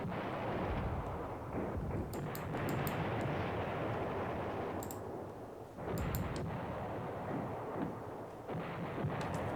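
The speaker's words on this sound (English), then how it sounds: "The bombardment there was effective enough to dislodge them." Heavy artillery bombardment in the wargame Command Ops 2, a continuous rumbling barrage of dense overlapping blasts with sharper cracking bursts recurring throughout, loud and sustained without any talk.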